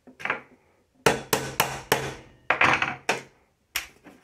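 A hammer raps on the hinge of a wooden cigar box guitar body, giving about eight crisp, close knocks in uneven pairs and runs, each a sharp thunk with a short ring-off, and no talking.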